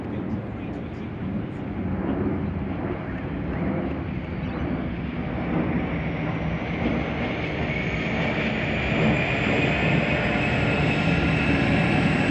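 An 81 class locomotive approaches, a deep rumbling engine drone that grows steadily louder and rises in pitch over twelve seconds, with a voice speaking briefly over it near the start.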